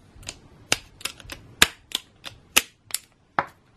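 GRÜNTEK HIBOU ratchet anvil pruning shears with an SK5 blade click through several ratchet notches, then snip a branch: about ten sharp, close clicks and snaps in an uneven rhythm, with no talking.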